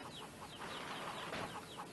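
Chickens in the PS2 game Chulip cluck over a steady background wash, with short repeated clucks at a moderate level and no voices.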